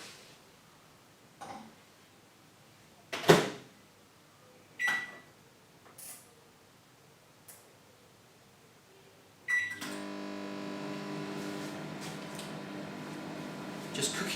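A microwave oven heating a chocolate bar: several sparse clicks and knocks, then a steady humming drone with a buzzy tone sets in and continues to the end.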